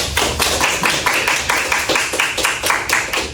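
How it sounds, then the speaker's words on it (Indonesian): Audience applause for a contestant at a school poetry competition, steady clapping from many hands filling the room throughout, loud and close with no talk over it. "Kita beri tepuk tangan dulu ya untuk peserta nomor 1 ini, Mas Chandra."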